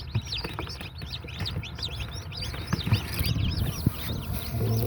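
Newly hatched Brahma and desi chicks in an incubator chirp in a busy chorus of rapid, high peeps, many overlapping calls close by over a low mechanical hum.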